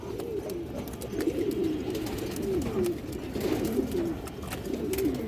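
Old-breed Bangladeshi Bagha pigeons coo in a steady run of low, rolling, throaty calls that overlap one after another, close and continuous with no talking.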